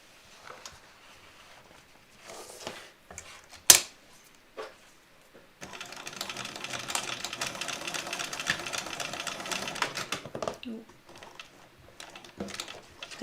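A home sewing machine stitches a bag strap, a steady mechanical whirring run of several seconds after scattered handling clicks and a sharp snap, close and moderately loud.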